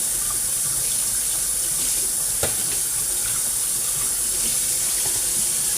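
Water draining from cooked gungo peas through a kitchen strainer for Jamaican callaloo rice, a steady hissing, splashing rush that runs throughout with one brief louder splash midway.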